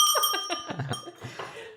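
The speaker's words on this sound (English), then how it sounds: "I just thought, how can we get this cowbell into the programme?" A cowbell is rung several times in quick succession, close and fairly loud, each strike ringing out with bright metallic overtones before fading.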